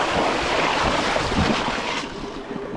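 A hunting e-bike rides through larger water puddles, giving a steady, close rush of splashing spray mixed with wind buffeting the microphone, loud and continuous before easing slightly near the end.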